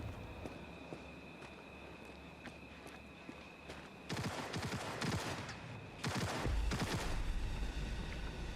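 Enemy gunfire in Cyberpunk 2077 crackles in two dense bursts over a low ambient game backdrop, the rapid shots loud and close, separated by a short gap.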